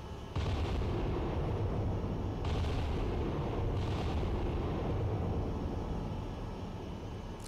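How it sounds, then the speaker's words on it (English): Heavy naval gunfire from a battleship's turrets engaging a small destroyer in the submarine warfare game Cold Waters, with three booming salvos that each leave a long rumbling roar between them. "Bridge, battery, guns engaging."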